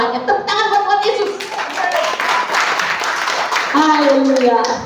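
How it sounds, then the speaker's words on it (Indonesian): A church congregation claps during a worship service, mixed with voices calling out and tonal singing-like sounds, all fairly loud and close. "Tepuk tangan buat Tuhan Yesus"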